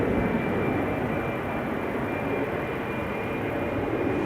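An Embraer jet at Amsterdam Schiphol Airport gives off a loud, continuous engine roar that stays even for the whole stretch.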